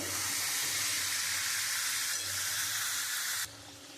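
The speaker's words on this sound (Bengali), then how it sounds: "আমি দিয়ে আবার কিছুক্ষণ একটু কষিয়ে নেব।" Elephant foot yam curry with prawns sizzles and fries steadily in a pan while being stirred, a continuous loud hiss that drops abruptly near the end.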